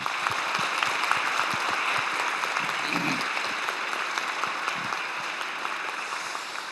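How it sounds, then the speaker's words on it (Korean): An audience at a meeting between the South Korean president and young future scientists claps steadily in a large hall, a dense, even wash of applause that holds throughout at moderate level. "우리 대한민국 국민과 함께 박수로 환영합니다"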